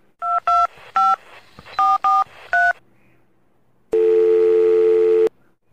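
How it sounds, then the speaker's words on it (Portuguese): Phone number dialed on a telephone keypad: a quick run of about eight sharp, loud touch-tone beeps in two bursts, a pause, then a steady tone of about a second and a half. "Ligar pro Jorge."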